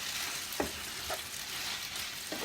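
Kushari being mixed in a pan, with pasta and spaghetti tossed together, makes a continuous frying sizzle broken by three brief scraping strokes of the utensil.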